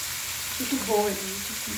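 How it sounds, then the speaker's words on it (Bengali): Tomato paste frying in a pan, giving a soft steady sizzle with a brief voice murmuring faintly through the middle. "টমেটো পেস্ট এটা ভাজা ভাজা হয়ে গেছে"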